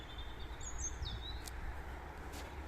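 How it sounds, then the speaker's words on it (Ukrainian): Birdsong outdoors on a sunny day in Ireland, a few thin, high chirps and a rising-falling whistle, faint and distant over low background rumble, with no talking. "Ну, все в нас співають пташки, поки що світить сонечко."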